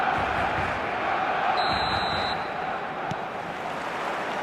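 A steady roar from a packed stadium crowd on match day in eFootball, a continuous wash of noise with a brief faint whistle-like tone in the middle.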